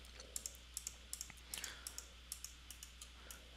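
Keys on a computer keyboard are tapped in a run of about fifteen quick, light clicks at an irregular typing rhythm, close and quiet, while a short command is entered in Rhino 6 3D CAD software.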